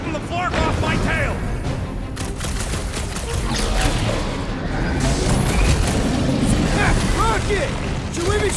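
Dense sci-fi gunfire rattles through a Guardians of the Galaxy video game battle: continuous bursts of shots and booming impacts fill the whole stretch, loud and close, with voices talking over the combat.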